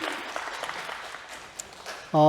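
A church congregation claps to welcome a guest during a Sunday service, a moderate scattered applause that fades before a sustained tone enters at the end.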